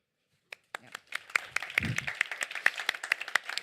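Audience applause at a policy report launch on sustainable and healthy eating, starting with a few scattered claps and building into irregular clapping from a room of people, moderately close and fairly quiet.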